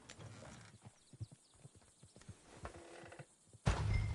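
Horses clip-clop in the Western video game Red Dead Redemption 2, a loose run of hoofbeats with creaking harness, fairly near, before a sudden loud rumbling burst at the end.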